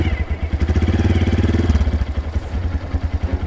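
A dirt bike engine runs close by with the throttle opened, its pulsing mid-pitched roar climbing and holding steady before easing back to a lumpy idle.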